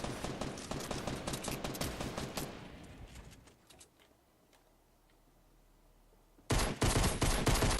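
Rapid bursts of automatic gunfire in the game Fortnite Battle Royale rattle continuously, fade to a quiet stretch, then erupt again loudly in quick succession.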